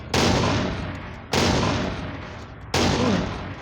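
Gunshots in the physics sandbox game People Playground: three loud, booming blasts spaced about 1.3 seconds apart, each one trailing into a long rumbling decay.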